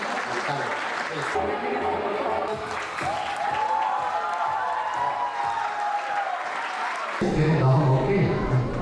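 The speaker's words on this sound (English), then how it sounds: "give a warm clap." Audience applauding at a Kathakali dance show in Tamil Nadu, a steady wash of many hands clapping with crowd noise and talk throughout, swelling louder near the end.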